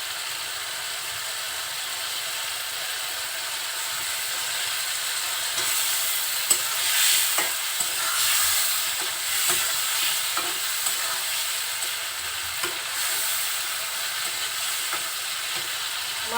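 Taki fish frying in oily spice paste in a pan, a dense steady hiss of sizzling close by, with occasional light scrapes and clicks of a spatula stirring through.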